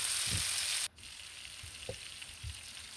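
Chicken drumsticks frying in a few tablespoons of oil in a wide flat pan: a loud close sizzle that cuts off abruptly, followed by quieter crackle with a few soft knocks and pops.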